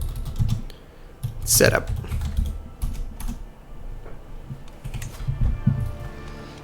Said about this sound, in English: I'll type in like Haesteinn